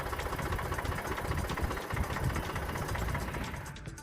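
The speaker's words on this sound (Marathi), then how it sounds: "त्यांनी 3 एकरवर कांदा पिकावर आपल्या ट्रॅक्टर फिरवून दिलेला आहे" A tractor being driven over a 3-acre onion field where the crop, ready for harvest, has rotted after continuous rain; its engine runs as a steady, loud, rumbling drone throughout, with no talk.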